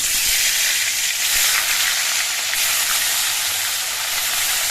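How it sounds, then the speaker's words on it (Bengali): Hilsa fish pieces frying in hot oil in a wok, a steady loud sizzle that holds evenly throughout with no voices. "কড়াইয়ের তেলটা গরম হয়ে গেছে এবার ইলিশ মাছগুলো ভেজে নিচ্ছি"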